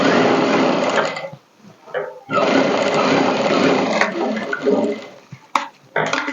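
A sewing machine double-stitches a seam on a princess cut blouse in loud, close bursts of rapid whirring, with brief pauses between runs and no talking.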